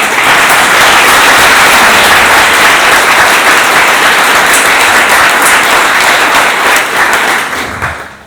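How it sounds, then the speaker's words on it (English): Conference audience applauding the speakers, a loud, dense, continuous clapping from a large crowd that holds strong for several seconds before tapering off at the end. "a round of applause for the speakers"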